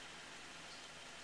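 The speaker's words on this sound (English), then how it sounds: "It's pouring down raining outside." Heavy rain pours down outside a vehicle, heard as a steady, dense hiss of drops with no breaks and no voices, faint and uniform throughout.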